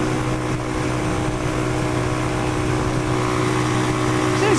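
Engine drone from a Pioneer Torro XF125S 125cc motorbike while riding, eased back from full throttle: a steady, buzzing hum with wind noise, holding an even pitch throughout.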